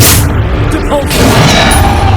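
A Depulso force spell blasts in Hogwarts Legacy, a deep booming burst amid continuous loud game combat noise, with a voice speaking over it.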